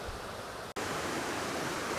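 Constant rushing hiss of a waterfall in shaded woodland, a dense steady wash of falling water heard nearby, briefly broken by a tiny dropout before resuming unchanged.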